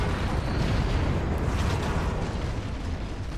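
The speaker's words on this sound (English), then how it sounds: "Got Mr. Rowell to fire the flat cannon, and then you fired the nukes right afterwards." Nuke explosions in the strategy game Forts roll out as a dense, sustained roaring rumble, loud and unbroken for a few seconds without distinct individual blasts.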